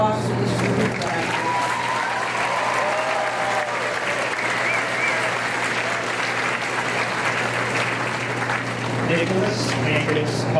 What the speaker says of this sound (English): And your round of applause for this group of graduates.